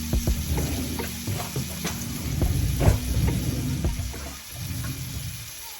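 Bean burger vegetables with garlic, onion, peppers and scotch bonnet cooking in a pan, a close, steady sizzle broken by scraping stirs and clatter, easing off near the end.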